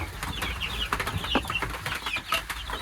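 Chickens in a coop clucking and chattering, several birds making short, scattered calls and squawks at close range over a soft background, with occasional rustling or wing flaps.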